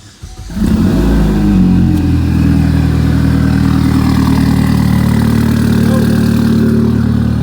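A truck engine with a newly fitted axle, already warm rather than cold-started, settles into a steady, loud idle after a brief starting surge, running close by with no talking.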